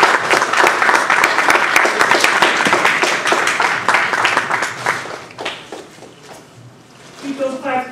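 A Toastmasters contest audience applauds, dense steady clapping from a room full of people that holds for several seconds and then thins out and fades, with a voice starting to speak near the end.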